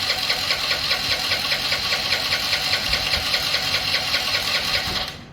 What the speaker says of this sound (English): first time cranking up with everything hooked up